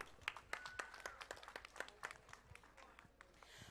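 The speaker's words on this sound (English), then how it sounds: "A round of applause for Manjari 2022" Quiet, uneven clapping from an audience at a school event with about 450 students, individual claps distinct and irregular, some voices murmuring underneath.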